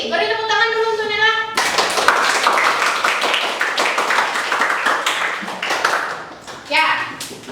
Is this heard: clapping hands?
yes